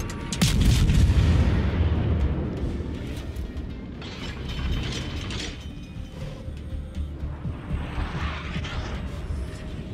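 Naval guns on an Acasta destroyer fire in World of Warships, heavy booming volleys with mechanical clatter dominating the opening second, then rolling rumble and repeated blasts continuing loud throughout.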